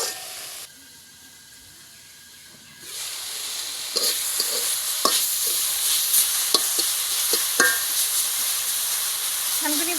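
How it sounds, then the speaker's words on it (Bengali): Thankuni leaves cook in a covered pan. After a few near-silent seconds, a steady hissing sizzle rises and holds, dotted with sharp clicks and pops. "এখন একটু চাপা দিয়ে দিব যাতে পাতাটা একটু ভালো করে সিদ্ধ হয়"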